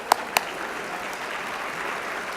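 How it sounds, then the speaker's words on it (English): A crowd at the 2013 Rage for Justice Awards applauds in an even wash of clapping, opened by two sharp, distinct claps or shouts near the start. "Give yourselves a round of applause"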